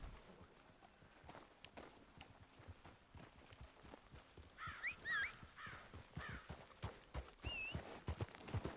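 In the Red Dead Online video game, a horse's hooves clip-clop in a steady walking rhythm, quiet at first and then louder, with a few bird calls overhead.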